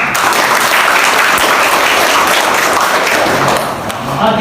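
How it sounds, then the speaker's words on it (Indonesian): University students give a loud, sustained round of applause in a classroom after a discussion session. The dense clapping stays close and steady for several seconds, with some voices mixed in. "Aplaus untuk kita semua."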